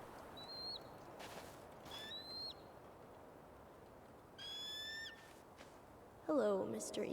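A bird calls in a quiet outdoor scene of the Tell Me Why video game, with a few short, thin descending whistles spaced apart over a faint hiss of background ambience and one louder warbling call near the end.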